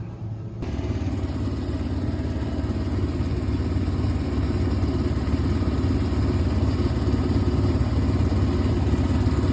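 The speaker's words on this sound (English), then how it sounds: "Let's get the air compressor fired up, put some air to it, and see what we got." An air compressor runs during repair work on a forklift. It starts abruptly, then holds a loud, steady, engine-like drone with a rattly texture.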